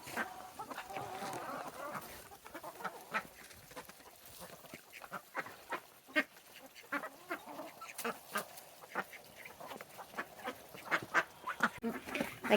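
Quail and other birds at a morning feeding give a busy mix of chirps, clucks and quacking calls, faint and scattered throughout, with soft handling noises in between.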